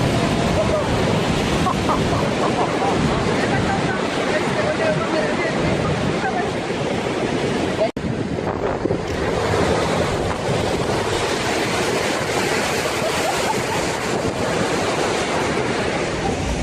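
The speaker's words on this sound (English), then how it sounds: "During the winter months, San Sebastian Bay sees waves rise as high as 30 meters" Large winter waves crashing in San Sebastian Bay, a continuous loud roar of surf with strong wind buffeting the microphone, one brief break near the middle, then the heavy rushing water resumes.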